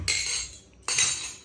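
Steel spoons and bowls clink and rattle in two short bursts of bright metallic clatter, close by and separated by a brief pause.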